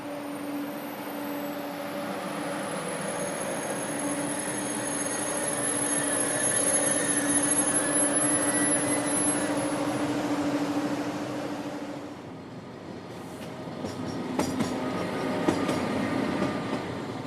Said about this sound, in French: Nous allons accompagner le TGV 2424 qui quitte Strasbourgville à 12h13 pour Paris-Gare de l'Est